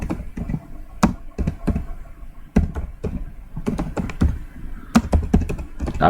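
Keys clatter on a computer keyboard as a registration number is typed into an online ITR 7 filing form, with irregular bursts of close, fairly loud taps and short pauses between keystrokes.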